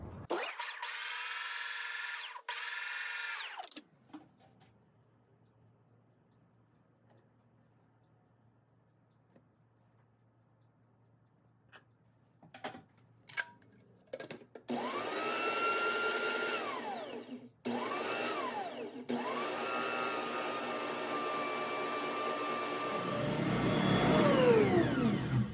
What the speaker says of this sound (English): I'm using my grandmother's Bosch mixer. It's going to be noisy.